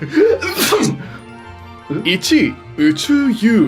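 In a Japanese comedy skit about moments when sneezing would be a disaster, set during a spacewalk, a loud, close sneeze bursts out among brief spoken lines and vocal reactions.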